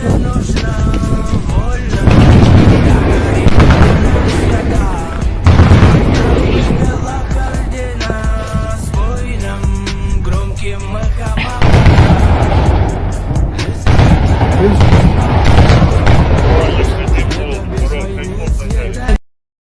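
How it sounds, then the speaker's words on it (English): An automatic cannon firing close by during fighting in Ukraine, heard as loud, continuous booming and crackling that stays dense throughout, with wind buffeting and voices shouting underneath. "That sounds like an automatic cannon"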